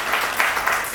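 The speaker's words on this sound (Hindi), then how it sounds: "एक बार तालियां इस बात के लिए भी हो जानी चाहिए।" Audience applause at a Hindi kavi sammelan poetry gathering, a brief, dense wash of many hands clapping, fairly loud and continuous with no speech over it.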